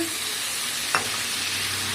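Chicken masala with potatoes and tomatoes sizzles steadily in a hot pan as a little water goes in, a brief hiss and splash near the middle over continuous close frying with no talking.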